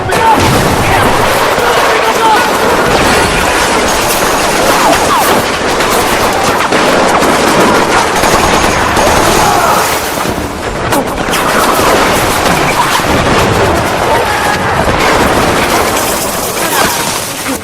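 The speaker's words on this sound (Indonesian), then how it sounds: "Mortar-mortar pun dihantamkan." Battle scene from a Pacific War film with American marines against Japanese forces: dense, continuous gunfire and machine-gun bursts mixed with booming mortar and artillery blasts, loud and sustained throughout with a brief dip midway.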